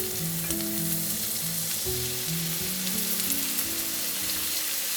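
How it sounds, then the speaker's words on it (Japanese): A hamburger steak steams in a frying pan after water is added, giving a loud, continuous hissing sizzle, with soft background music. "表面が焼けたら水を入れて蒸し焼きにする。"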